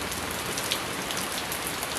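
Rain falling steadily on a garden, a dense even hiss of drops with faint individual splashes, close and continuous throughout, no talk.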